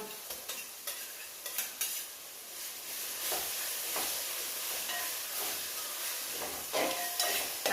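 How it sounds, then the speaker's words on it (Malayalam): Ginger, garlic and green chili paste sizzling in a pan, with a loud, dense, continuous close-up crackle and hiss broken by scraping stirs. "ഇതാ നമ്മുടെ ഇഞ്ചി വെളുത്തുള്ളി പച്ചമുളക് പേസ്റ്റ് ഇട്ട് കൊടുക്കാം"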